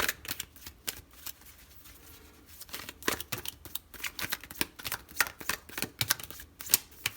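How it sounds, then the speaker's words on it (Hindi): Tarot cards drawn one after another from a deck, a quick run of crisp slaps, flicks and shuffling snaps with uneven rhythm, close and fairly loud, with no talking. "पहले सारे कार्ड्स निकाल लेते हैं"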